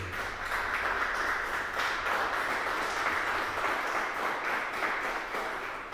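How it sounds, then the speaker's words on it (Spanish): A church congregation applauds during a Sunday service, a steady wash of many hands clapping that stays even throughout without speech. "Démosle un fuerte aplauso al Señor."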